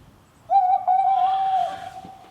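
A single clear, close hoot held for about a second, tonal and steady with a soft wavering tail, like an owl call; no talking over it.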